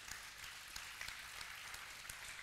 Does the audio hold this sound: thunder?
no